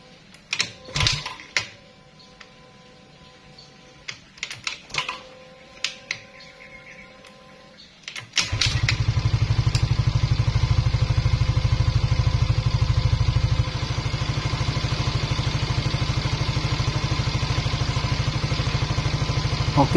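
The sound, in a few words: Suzuki Address scooter kick-started and engine idling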